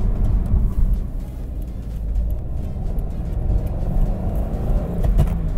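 Engine of an FT86 sports car fitted with an IRP short shifter, heard as a steady, loud low rumble that drones continuously without any clear break or change in pitch.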